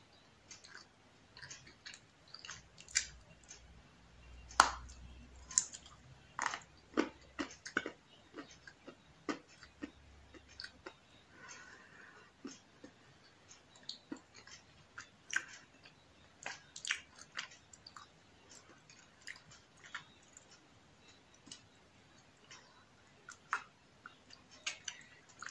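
Close, quiet chewing of a soft, still-moist grey marshmallow confection, with irregular sticky clicks, squishes and mouth sounds spread across a long stretch with no talking.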